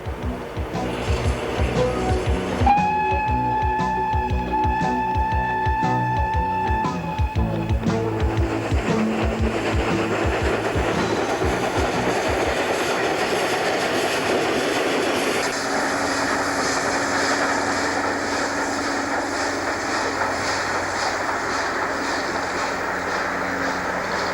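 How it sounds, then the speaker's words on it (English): Coupled steam locomotives Flying Scotsman and Pendennis Castle reversing through Mount Lawley station near Perth: a loud, continuous mechanical rumble with a sustained tonal sound early on, fading into steady rolling noise. "The coupled locomotives are spotted reversing through the Mount Lawley station, which is near the Perth terminal."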